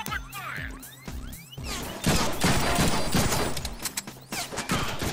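Gunfire in the PS4 game Deadpool, with dense overlapping shots, crashes and impacts that build into a loud continuous barrage while voices shout over it.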